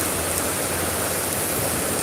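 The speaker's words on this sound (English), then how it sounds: "It is pouring and I'm about to go through a break in the building where I'm gonna get wet." Heavy rain pours down in a dense, steady hiss that fills the whole moment without a break, close and loud. No voices are heard.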